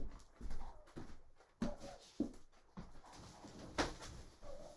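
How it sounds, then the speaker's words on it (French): Dogs close by indoors, whimpering, panting and shuffling in short uneven bursts, fairly faint with no talk over them. "Eh les toutous."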